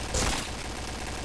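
Shooting-game gunfire crackles as a brief burst of shots near the start, followed by a dense, noisy wash of sound.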